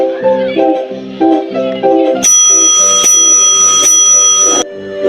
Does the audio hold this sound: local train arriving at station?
no